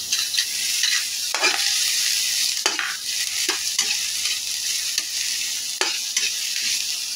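Garlic, onion and kikiam fry in a pan for pansit buko, a bright continuous sizzle broken by several scraping stirs of a utensil at irregular intervals, close and loud, with no talking.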